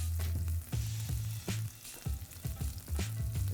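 Onions hitting a hot pan and sizzling for a Korean seafood noodle stir-fry, with repeated stirring scrapes and bursts of frying close up, no talk.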